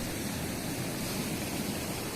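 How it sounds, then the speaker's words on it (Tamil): A steady, even rush of river water in a canal near Pimburaththewa, Polonnaruwa, continuous and moderately loud with no voices. "ஆறு ஓடிக்கொண்டிருக்கிறது."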